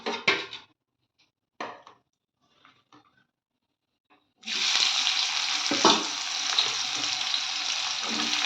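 Parboiled potatoes fry in hot oil with a steady, loud sizzle from mid-clip onward, preceded by a few brief stirring scrapes and clinks against the pan, for a chicken curry.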